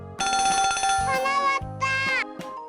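A mobile phone text message alert tone plays alone, a bright, loud ringtone-like melody of several short tonal phrases, with a low synthetic voice-like part underneath.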